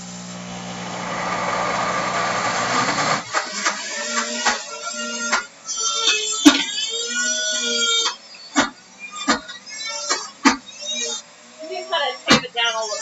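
A kitchen blender grinds hummus ingredients in a steady, close motor whir for about three seconds. The motor then stops, and people talk over scattered handling noises.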